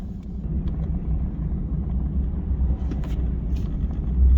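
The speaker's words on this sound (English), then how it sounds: "there's a lot of traffic out here." Steady road traffic from cars on a busy stretch, a continuous low rumble that holds at a constant level throughout with no speech over it.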